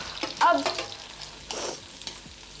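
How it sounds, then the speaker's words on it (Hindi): Onions fry in a pan with a soft sizzle and a few quick clinks and scrapes of stirring, heard up close over a brief moment. "अब उसमें ये प्याज जरा जल्दी से डालें। ये लो, प्याज भी डाल दी।"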